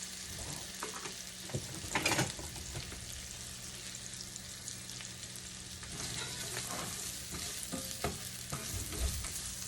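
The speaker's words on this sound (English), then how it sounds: "It already smells good just having that onions cooking in the butter." Onions fry in butter in a pan with a quiet, steady sizzle and occasional stirring scrapes, heard alone without talk.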